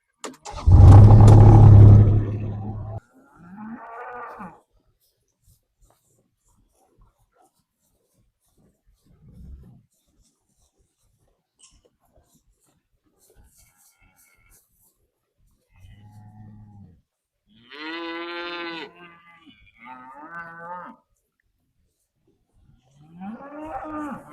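Cows mooing on a grass pasture: one loud, deep, drawn-out moo opens, then long quiet gaps broken by scattered fainter calls and brief lowing further off, with a few voice-like sounds later on.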